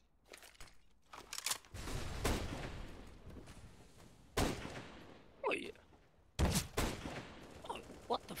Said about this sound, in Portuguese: Isto não é tiro?